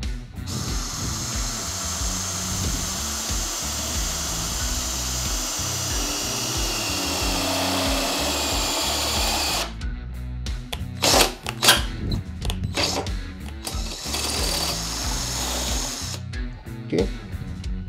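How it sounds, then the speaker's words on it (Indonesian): A Mollar CID20500-U cordless impact drill bores into steel with a 10 mm bit at high speed, whining loudly and steadily, then stopping and restarting in short bursts with clicks and handling noise. "Saya menggunakan mata bor 10 mili dan langsung kita tanpa step ya, kita langsung coba."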